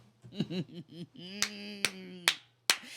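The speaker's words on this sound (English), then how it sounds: "I'm clapping for myself" A man claps his hands for himself, four sharp, close claps spaced irregularly after a brief stretch of his voice and a sustained tone.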